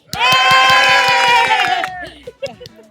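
Children at an Onam gathering clap in a quick steady rhythm under a loud sustained group cheer, which drops away after about two seconds into scattered claps and murmurs.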